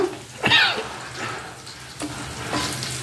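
Raw banana pieces sizzle and fry in a pan with a steady crackle, punctuated by a few louder scraping stirs and clinks.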